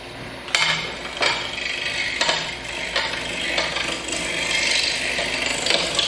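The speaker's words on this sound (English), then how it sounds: "Of course, we start with the roughing gouge." A roughing gouge cuts a wood spindle turning on a lathe, giving a steady rasping scrape broken by sharper bursts as the tool bites, close and fairly loud with no talk.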